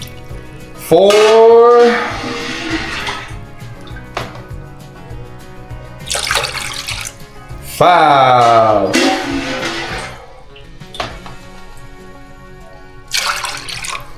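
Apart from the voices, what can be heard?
water being poured by the cup into a pot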